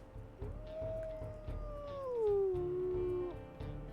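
A wolf howl from the video game WolfQuest, a single short, clear tonal call that glides downward in pitch and then holds, over a low steady background hum.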